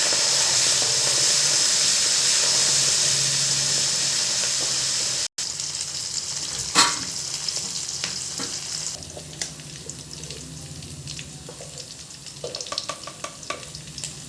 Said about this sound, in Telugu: ಮೆಣಸು ಮೆಂತ್ಯ ఇవి చక్కగా నూనెలో ఫ్రై కావాలి